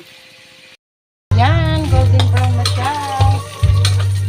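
Ingredients for pinakbet stirred and sautéing in a pan, a loud close sizzle with spoon scrapes after a brief silence, with a person's voice partly over it.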